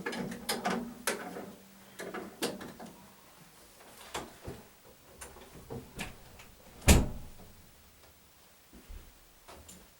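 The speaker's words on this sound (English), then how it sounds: "I want to close the door" A door being closed indoors in a room with a radio and stereo, with scattered clicks and knocks of the handle and latch, then one sharp, louder thud as it shuts, followed by a few quieter taps.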